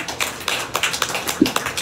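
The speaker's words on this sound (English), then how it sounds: "round of applause for our fancy exhibitors here" An audience claps at a county fair rabbit show, a short burst of scattered, fairly close applause with uneven individual claps and no talking.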